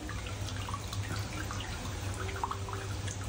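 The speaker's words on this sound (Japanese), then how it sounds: "かけ流しの露天風呂です。" Hot spring water pours continuously into a private open-air bath, a soft steady trickle and splash with faint drips, heard quietly at low level.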